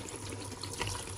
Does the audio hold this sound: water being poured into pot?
yes